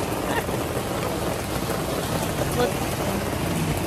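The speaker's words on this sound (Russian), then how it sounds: "решила просто еще раз показать вам наш дождик" Steady rain pours in Valencia, a dense continuous hiss of drops on surfaces, close and even throughout, with a brief spoken word from a woman over it.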